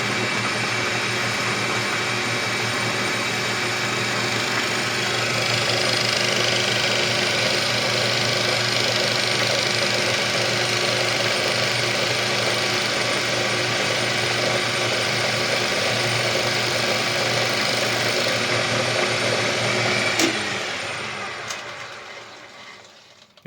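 A metal lathe faces a Subaru Impreza metal camshaft gear, running as a steady droning motor hum with a whiny tonal layer and constant cutting noise for about twenty seconds before winding down.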